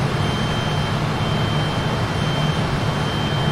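Jet engines of a Fokker 28 airliner at climb power in Microsoft Flight Simulator, a steady, loud, broad roar with a low rumble and a thin high whine that never changes.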